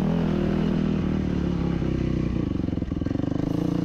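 Motorcycle with electric start climbing a big hill at Mesquite, Nevada: a loud, close, continuous engine drone with pulsing exhaust throb and slight load changes as it pulls upward, no speech.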